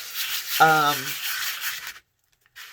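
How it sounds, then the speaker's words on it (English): Light hand sanding of a paper fabric junk journal cover, a close, steady scratchy rubbing that stops abruptly and then briefly starts again. "lightly sand it before I use it. So I will do that. I think I'm also going to sand the inside."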